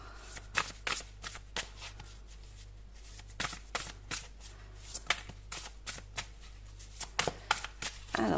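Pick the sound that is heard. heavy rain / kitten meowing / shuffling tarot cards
shuffling tarot cards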